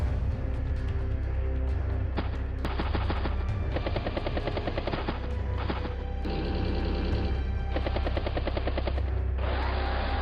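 Helicopter unit in the video game Advance Wars: Days of Ruin, a steady loud rotor chop running throughout, overlaid with bursts of rapid machine-gun fire and impact crashes from the battle animation, with no talking.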